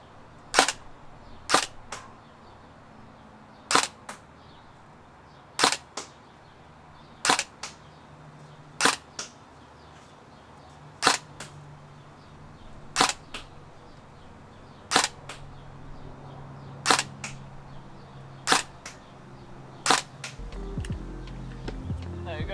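A CYMA MK18 EMG Helios airsoft AEG fires single semi-auto shots with .30 gram BBs at a 100-foot target, about ten sharp evenly spaced snaps over faint outdoor background, with a low rumble near the end.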